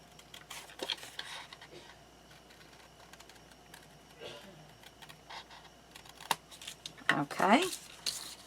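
Scissors cut out a paper piece along a pencil mark for a papercraft display box and mini album, with soft snips and rustles building into louder cutting near the end.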